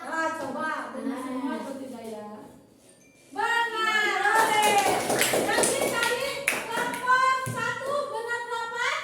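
Classroom children clapping hands together, a loud burst of rhythmic claps that starts after a teacher talks and runs on under further speech.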